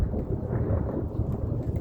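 Deep, continuous thunder rumbles from an approaching storm, a low rolling roar with a faint wash of rain or wind, and no talking.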